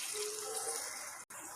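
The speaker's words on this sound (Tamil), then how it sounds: "அதனால் நம்ம ஒரு 1/2 டம்ளர் மட்டும் தண்ணி விட்டு வேக வச்சுக்கலாம்." Water is poured into a cooking pan of goat liver, a brief continuous gushing pour at moderate level with a short cut near the end.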